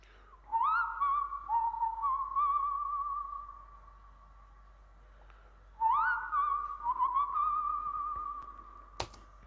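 A sampled whistle melody drenched in plate reverb, heard as two sustained wavering phrases with long reverberant tails, fairly close and alone, ending on a sharp click.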